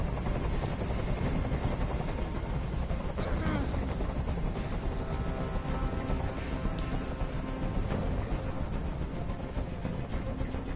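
A helicopter hovers in the video game Detroit: Become Human, producing a loud, steady, dense rotor roar that fills the whole stretch. Faint game sounds sit beneath it.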